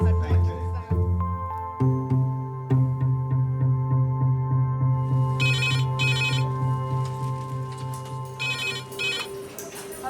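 The red phone in a UK hospital A&E department rings in two loud electronic bursts, close by, under an ongoing hum with staff voices.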